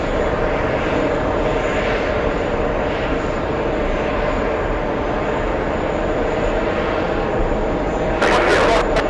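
An Airbus A220 jet at JFK airport gives off a continuous, loud engine roar with a broad rumbling hum. A person talks over it, and sharp clicks come near the end.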